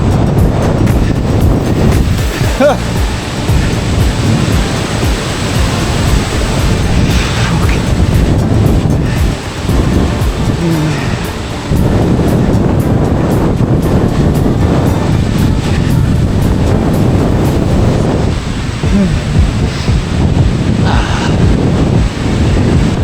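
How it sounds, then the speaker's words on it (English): Strong wind roars and buffets the microphone almost without pause while cycling on an exposed, unsheltered road in the Netherlands, loud and gusty throughout. "There's actually no protection from the wind here."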